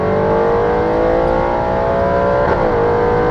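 A modified 2018 Audi RS7 running on E85 fuel accelerates hard, its engine a loud, continuous near roar climbing steadily in pitch, with a brief break like a gear change before the rising drone resumes.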